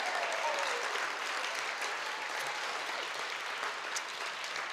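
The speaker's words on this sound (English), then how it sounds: "Big round of applause" Steady, full audience applause at an applied art and design award presentation ceremony, a dense, even roar of clapping from a sizeable crowd sustained throughout.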